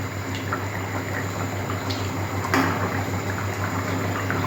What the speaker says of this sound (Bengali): ঝোলটা খুব সুন্দর ফুটছে।